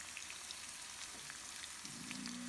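Leek and garlic frying in a pan, a steady broadband sizzle that stays fairly quiet and even throughout, with a faint low hum near the end.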